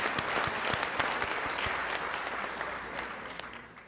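An audience at a national prayer breakfast in Korea claps in a dense burst of applause that fades gradually over a few seconds, with a voice faintly audible beneath it.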